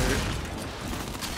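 Rapid gunfire rattles through a match of the shooter Gears 5, a dense, loud burst of shots over rumbling game noise with no clear gaps between rounds.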